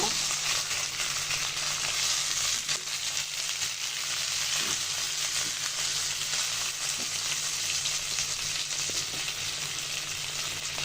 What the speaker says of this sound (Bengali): ঢাকনটা তুলে মাছটা এভাবে ধুয়ে ধুয়ে ভেজে নিব